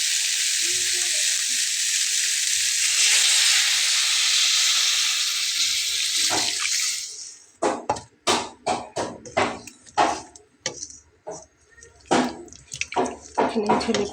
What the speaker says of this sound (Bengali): তো এখন আমি ঝোলের পানিটা অ্যাড করব।